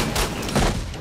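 Dense, loud rumbling blasts and crackling booms fill the clip, like a game explosion with debris, continuous and close, from S.T.A.L.K.E.R.: Shadow of Chernobyl.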